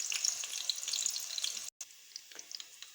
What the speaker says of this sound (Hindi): ये हमने लिया है घी। अब मैं इसमें डालूंगी ये प्याज।